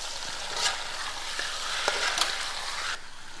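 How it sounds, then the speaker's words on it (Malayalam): Marinated chicken stir-fried in a pan over a high flame for a chatpata chicken fry, giving a steady close sizzle with a few sharp scraping stirs. "ഇതിലേക്ക് നമ്മൾ മാരിനേറ്റ് ചെയ്ത് വെച്ചിരിക്കുന്ന ചിക്കൻ ആഡ് ചെയ്ത് കൊടുക്കാം. എന്നിട്ട് നമ്മളൊരു ഹൈ ഫ്ലെയിമിൽ നന്നായിട്ടൊന്ന് മിക്സ് ചെയ്ത് കൊടുക്കാം."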